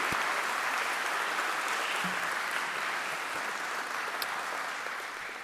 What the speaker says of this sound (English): I would appreciate you joining me in a round of applause for Bishop James FOLTS